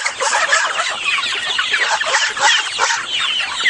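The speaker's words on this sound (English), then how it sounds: "He's a very healthy fowl." A Brahma rooster clucks amid a flock of yard chickens, dense overlapping clucks and squawks running loud and close for a few seconds without any talking.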